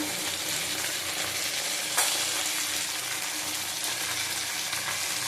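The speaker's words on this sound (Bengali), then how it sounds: "হলুদ দিলাম আবার ভালো করে কষিয়ে নেব" Ground cumin, Kashmiri chili powder and turmeric fry in hot oil in a pan for a Bengali rohu fish curry, giving a steady close sizzle with faint stirring scrapes and one sharper clink.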